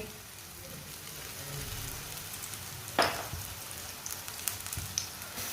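Mooli paratha frying in oil on a pan gives a continuous close sizzle with a brief sharper crackle burst partway through and a few small pops after, and no one speaks.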